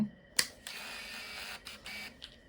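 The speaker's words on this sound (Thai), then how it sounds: "กล้องก็จะเลื่อนฟิล์มอัตโนมัติขึ้นเล็กหนึ่ง ก็พร้อมถ่าย" A Canon EOS 620 film camera auto-advances freshly loaded film: a sharp mechanical click is followed by a steady whirring motor drive lasting about two seconds with small changes in pitch, close and quiet.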